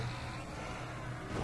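A car engine roars steadily in the zombie survival video game Dead Island, a continuous loud rumble with no talk over it.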